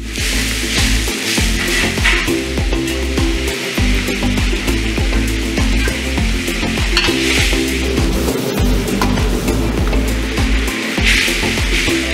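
Lomo saltado, a Peruvian beef stir-fry, hisses and sizzles loudly over a high flame, with steady frying noise and repeated dull knocks and scrapes from the pan and spatula as the ingredients are tossed.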